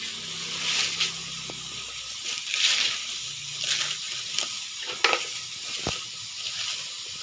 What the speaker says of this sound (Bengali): মূলোটাকে একটু ভেজে নিচ্ছি।